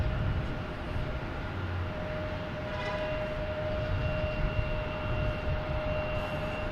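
Steady distant roar of a JetBlue airliner with special livery departing Boston Logan Airport at night, a broad continuous rumble with a faint high tonal whine holding through the whole stretch, with no voices.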